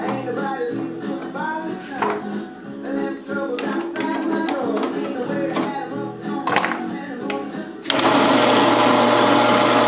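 An eighth-inch bit drills the air hole into a briar pipe stem: a steady machine whine with fluctuating tonal grinding, joined near the end by a louder, harsher drilling roar.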